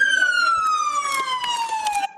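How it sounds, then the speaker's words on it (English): Police car siren in a steady descending wail, loud and close, with a vehicle stopped and an officer taking cover behind it during a police shooting incident in Bakersfield. "the siren stays on."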